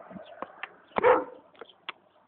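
A dog in a forest gives a few short, scattered barks at mid distance, with one louder, fuller yelp near the middle, over quiet woodland ambience.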